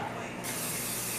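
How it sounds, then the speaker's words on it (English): Canola oil sprays in a steady, close hiss over partly cooked potatoes. It starts softer and grows fuller and louder after a brief moment, with no talking. "We're just going to use this canola oil real quick to spray it."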